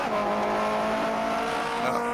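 A 1950s Formula One car in rFactor 2 at the Sachsenring holds a steady droning engine tone while braking hard into a first-gear left-hander, close and continuous with no talk.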